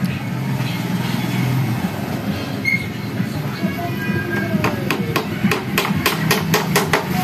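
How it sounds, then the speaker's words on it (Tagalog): A small nail is driven in with a hammer, a run of sharp, evenly spaced strikes near the end, over steady background traffic-like rumble. "napapako natin ang maliit na pako"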